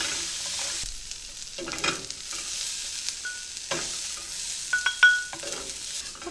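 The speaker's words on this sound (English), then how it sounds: "these will saute down for just about 3 to 4 minutes" Peppers and onions seasoned with salt and pepper sauté in a pan, giving a steady soft sizzle broken by scraping stir clatter and a few sharp clinks, close and moderately quiet.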